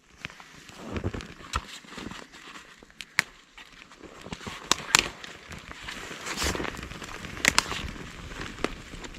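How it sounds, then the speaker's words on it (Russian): Campfire catching in a frozen winter forest during an overnight survival outing, with scattered sharp crackles and pops over a low, steady hiss, moderately close and fairly quiet. "Потрескивание от разгорающегося костра и первое тепло от него"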